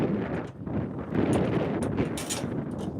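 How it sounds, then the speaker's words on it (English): Gusty wind buffets the microphone in uneven, rumbling bursts with no voices, loud and close throughout. "It's very windy."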